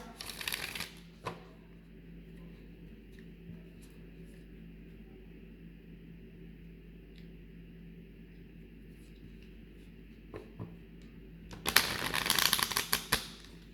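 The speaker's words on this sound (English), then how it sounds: "So first let's shuffle the cards." Bursts of cards being shuffled at the start and again near the end, crisp riffling rattles with a quiet hum in between.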